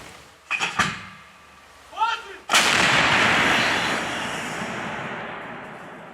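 Ukrainian artillery gun firing in a forest in Donetsk region: brief voices, then one heavy, close blast that rolls out into a long, loud, fading rumble.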